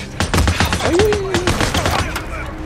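Rapid sniper and rifle gunfire in Days Gone, a dense burst of sharp cracks in quick succession, loud and close, with a voice shouting briefly over the shots.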